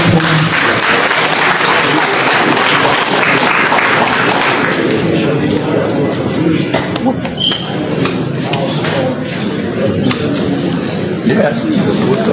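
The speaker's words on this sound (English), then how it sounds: "Can you please give me a round of applause?" Audience applause at a Liberian government town hall event, a dense wash of clapping that is loud at first and thins out gradually, with shuffling and voices mixed in.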